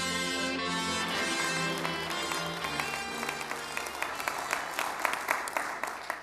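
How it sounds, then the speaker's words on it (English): Audience applause at an evening speaker event welcoming a host onto the stage, steady dense clapping filling the room, with louder individual claps standing out toward the end and a brief tonal sound at the start. "please give a very warm round of applause to your host"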